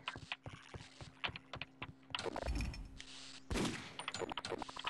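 Rapid gunshots crack in a quick series, then heavier bursts and blasts follow, loud and close, typical of video game gunfire in Half-Life: Opposing Force, with no talking.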